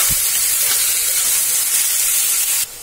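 Onions frying in oil in a pan for chicken curry give a loud, continuous close sizzle with a steady hissy texture that cuts off sharply just before the end.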